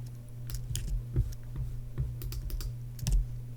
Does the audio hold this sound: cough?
no